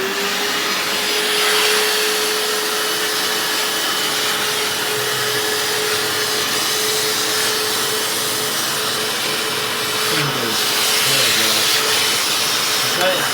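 A Hoover FloorMate Deluxe floor cleaner scrubs a bathroom floor with a steady, loud motor whine and brush hiss running unbroken and close by, with a faint voice briefly audible under it.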